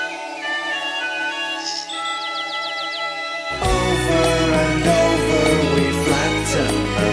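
Music from a 1986 album spinning on a vinyl turntable: a quiet, sparse opening with tinkling high notes gives way midway to a full, loud band arrangement with deep bass.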